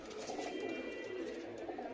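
Madrasi pigeons with pink eyelids coo softly in a continuous low murmur, faint and steady, with no clear voices over it.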